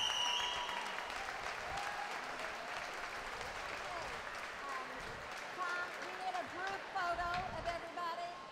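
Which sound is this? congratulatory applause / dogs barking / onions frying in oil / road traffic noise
congratulatory applause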